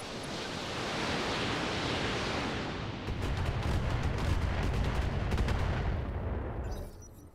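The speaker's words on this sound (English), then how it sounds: "Okay, missiles away." Missiles launching at a mech in the Roguetech video game: a dense broadband roar of rocket fire builds into a rapid, rumbling barrage of launches and impacts, loud and steady for several seconds before cutting off.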